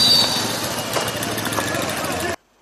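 A motorcycle engine runs steadily up close, a rough continuous drone that cuts off abruptly near the end, with voices mixed in.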